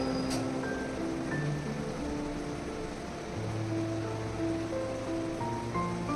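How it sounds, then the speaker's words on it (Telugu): Water is poured into a pot of biryani rice, a continuous soft rushing and splashing that holds steady for several seconds over a faint tonal hum, with no one speaking. "ఫస్ట్ అయితే ఈ వాటర్ యాడ్ చేస్తాను."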